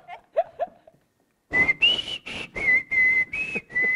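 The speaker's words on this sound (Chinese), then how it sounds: "我吹口哨。" A person whistles on a TV variety game show, producing a rapid run of loud, close tonal bursts after a brief faint sound and a short pause.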